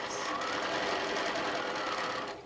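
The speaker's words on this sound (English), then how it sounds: "as I stitch through the top of the goose, I want to make sure that I'm stitching right through the X" A sewing machine stitches through a quilt panel, a fast even whir of the needle running continuously up close and fading at the end.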